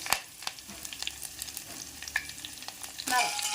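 Garlic, curry leaves and dry red chilies frying in hot oil for sambar: a close crackling sizzle broken by quick sharp pops and spatula scrapes, rising to a louder hiss of stirring at the very end.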